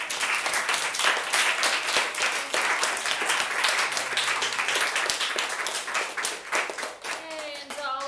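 An audience at a tech talks conference claps loudly and steadily after the speakers, the dense clapping thinning near the end as a voice or two cheer over it.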